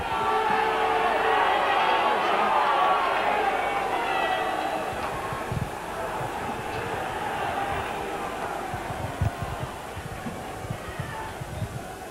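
Rugby league cup final crowd, Wakefield Trinity against Sheffield, a broad sustained roar of massed voices and chanting filling the stadium, with occasional louder bursts and commentary talk over it.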